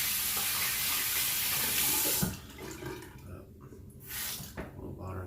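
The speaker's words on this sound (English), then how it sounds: "A little water in the brush." Tap water runs loudly into a shaving brush during a wet shave with Nivea Sensitive shave cream, a steady rush for about two seconds before it cuts off, leaving quieter handling sounds.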